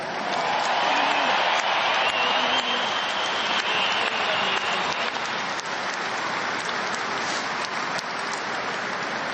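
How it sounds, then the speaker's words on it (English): A crowd at a Dublin versus Tyrone Gaelic football trophy presentation claps continuously in sustained applause, dense and steady, tapering slightly toward the end. "you guys deserve a massive round of applause"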